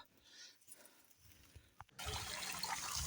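Water from a garden drip irrigation line flows steadily in the open, starting abruptly partway through and continuing as a close, broadband rush after a quieter stretch with faint scattered sounds.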